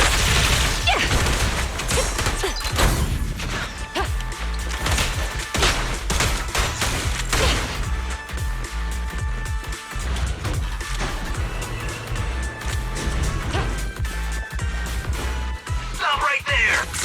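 Shootout from the video game Zenless Zone Zero, with dense bursts of gunfire and impacts running nearly nonstop at steady loudness, mixed with game music and effects.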